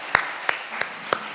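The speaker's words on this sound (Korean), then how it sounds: "하나님께 영광의 박수 올려드리겠습니다" Sparse clapping at a Korean church Sunday service: four separate, evenly spaced sharp claps in a quiet room, faint and close.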